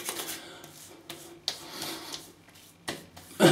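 Aqua Velva aftershave balm, a soft balm, rubbed into skin by hand, giving soft close-up brushing and rubbing strokes in uneven bursts with a sharper contact near the end.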